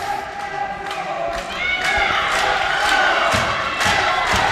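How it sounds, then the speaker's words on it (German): Chanting from the visiting Wismar fan block echoes through a handball arena, a dense, loud crowd roar with rhythmic shouts and thuds running continuously throughout. "Sprechchöre aus dem Wismaraner Block."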